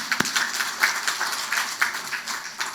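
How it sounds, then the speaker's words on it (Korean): Church congregation applauding together, a dense, steady patter of many hands clapping at moderate distance, with a few sharper individual claps standing out. "하나님께 영광의 박수 올려드립니다"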